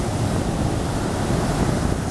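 Ocean surf at a beach at sunset, a steady, loud wash of breaking waves with heavy wind buffeting the microphone throughout and no voices.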